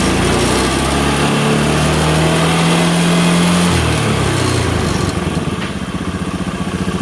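A Honda Beat carbureted scooter engine runs loud and close with a steady buzzing drone, briefly rising in pitch as it is revved, then settling back toward idle.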